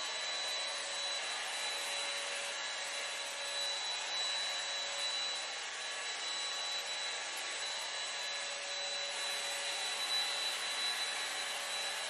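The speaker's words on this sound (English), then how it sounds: "with these sections, I really try to blow dry up so that I can get more volume on top." A hair dryer blow-drying hair at home, a continuous steady whir with a faint high whine that holds constant without pauses.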